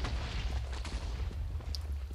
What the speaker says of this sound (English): Okay, I just heard random explosions.